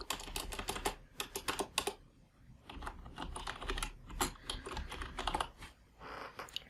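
Someone types on a computer keyboard in quick irregular runs of clicks with short pauses, close and fairly quiet, with no talking.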